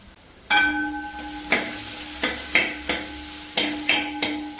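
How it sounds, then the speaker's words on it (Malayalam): Turmeric and coriander powder roast in a pan, making a steady sizzle broken by sharp, repeated scrapes and knocks of a spoon against the metal, close and rhythmic with no talking. "പൊടികളുടെയൊക്കെ പച്ച മണം മാറുന്നവരെ നമുക്കൊന്ന് മൂപ്പിച്ച് കൊടുക്കാം."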